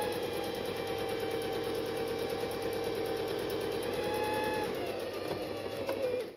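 A sewing machine runs steadily, stitching a back-tack to lock a seam on a zip pouch, with a continuous close whirring hum and fine rapid needle rhythm throughout, tailing off at the very end.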